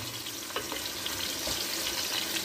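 Onions fry in hot oil over a fire for a buka stew, a dense continuous sizzle with faint watery crackle and a couple of soft stirring knocks, no voices.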